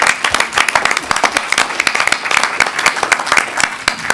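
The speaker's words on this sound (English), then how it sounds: "Once again, a round of applause." A room full of attendees at a Tennessee Board of Regents meeting claps as a round of applause honoring a retiring colleague, crisp individual claps forming a steady, close, moderately loud patter for several seconds without speech.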